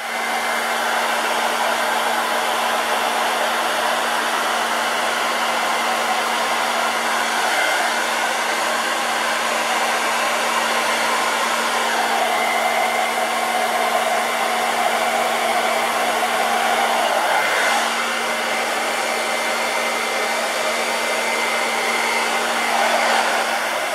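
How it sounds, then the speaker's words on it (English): A blow dryer roars steadily and loud for the whole stretch, pushing poured acrylic paint around a canvas, with no talk over it. "And now I'm going to go in with the blow dryer."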